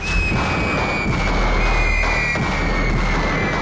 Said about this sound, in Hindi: तभी गोली चलने की आवाज सुनी हमने